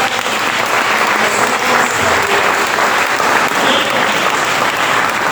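A church congregation breaks into loud, steady applause in praise, a dense, continuous wash of clapping that fills the whole stretch with no break.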